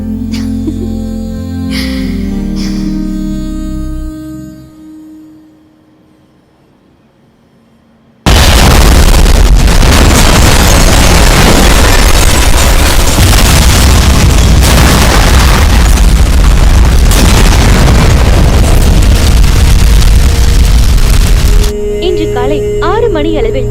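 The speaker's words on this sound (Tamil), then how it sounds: "சென்னை புறநகரில் உள்ள பிரான்ஸ் நாட்டை சேர்ந்த பிராங்கோ டயர் கம்பெனியில் சக்தி வாய்ந்த வெடிகுண்டு வெடித்தது" A powerful bomb blast at a French-owned tyre factory on the outskirts of Chennai, staged in a film. After a brief quiet, a sudden, very loud roaring burst continues for about fourteen seconds, with musical tones before and after.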